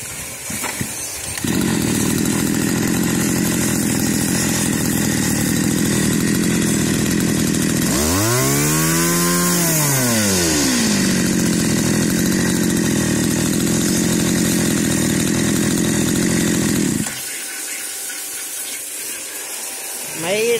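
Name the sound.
Komatsu G2K 26cc brush cutter engine running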